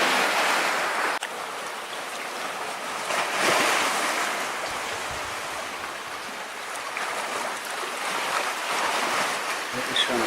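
Ocean waves surge and wash continuously against the rocky shore at Mermaids Grotto, Okinawa, a loud, close, broadband roar that rises and falls with wind buffeting the microphone and no talking.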